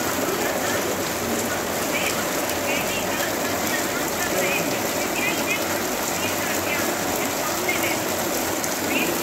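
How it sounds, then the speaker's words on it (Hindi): Heavy rain pours down outside in a steady, dense wash of noise that continues unbroken from start to finish, loud and close, with no voices heard. "फुल दबा के बारिश आई है"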